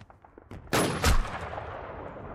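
Gunfire in the video game WarInc, a loud broadband blast near the middle that rises into a second heavier boom with a deep low thump, then fades into a steady background of ambient game noise.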